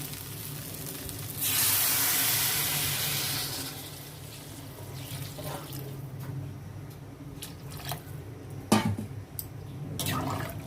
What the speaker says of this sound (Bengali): এবার আমি জল ঢেলে দেবো এতে।